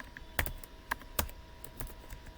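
A few scattered, distinct keystrokes on a computer keyboard as country names are entered into a Google Sheets spreadsheet, close and crisp over a quiet background hum, with no speech.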